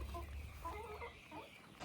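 Roosters on a farm in Ghana give soft, low clucks a few times against a constant background hum, faint and fairly distant.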